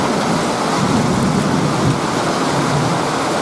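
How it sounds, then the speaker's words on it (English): A morning rain shower during a storm about a mile off: a steady, loud hiss of rain with a low rumbling thunder underneath, continuous throughout and with no voices. "About a mile away the storm is."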